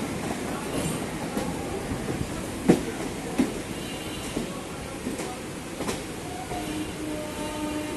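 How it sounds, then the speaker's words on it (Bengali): A Bandel-bound local train runs just after leaving Howrah station, heard from inside as a steady rumble with occasional clacks and rattles of the carriage. A faint background murmur of voices is present. "দেখুন যাচ্ছি ট্রেনে করে"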